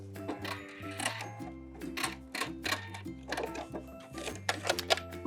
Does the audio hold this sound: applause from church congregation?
no